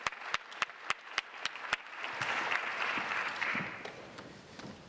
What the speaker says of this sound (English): let's give a round of applause for the papers of this session